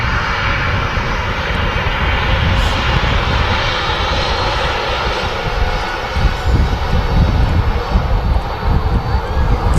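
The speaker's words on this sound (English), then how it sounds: "This Ryanair 737 is from the classic Ibiza destination." Ryanair Boeing 737 jet engines roar steadily at Manchester Airport on a flight arriving from Ibiza, a continuous broadband rumble filling the whole stretch with slight swells in loudness and no voices over it.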